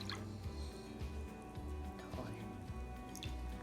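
Berry lemonade glugs and drips from a bottle into a container in uneven repeated pulses, close by and fairly quiet.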